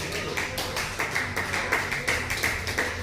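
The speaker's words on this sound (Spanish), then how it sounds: "Aplaude al nombre de Jesús" A church congregation claps together in a fairly steady rhythm during a sermon, soft and somewhat distant.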